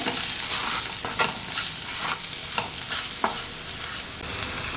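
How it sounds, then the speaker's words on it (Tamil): A spoon stirs salt and chili powder through okra frying in a pan for ladies finger fry, with scraping strokes at a regular pace over a continuous close sizzle. "தேவையான அளவு உப்பு, இதெல்லாத்தையும் சேர்த்து ஒரு வாட்டி கலந்து விட்டுருங்க."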